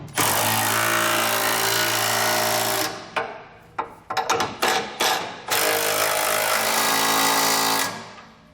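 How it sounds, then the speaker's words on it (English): Side strap bolts being tightened on a TorkLift SuperHitch trailer hitch receiver on a 2008 vehicle with a power tool: a loud, steady whirring run, then several short bursty hammering pulses, then another long continuous whir that fades out. "we're able to tighten down both of our side strap bolts."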